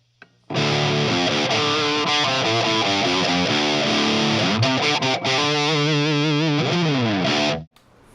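A heavily distorted, high-gain electric guitar through a TWA MM-01 MiniMorph dynamic waveshaper foldback distortion plays chords and riffs loudly after a brief pause, ringing out and stopping abruptly.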